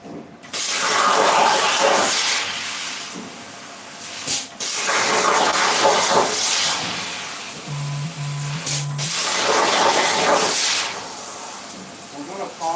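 A Langmuir CrossFire XR CNC plasma cutter cuts sheet metal for signs, giving a loud, continuous rushing hiss with brief breaks. A short buzzing tone and a voice come through near the middle.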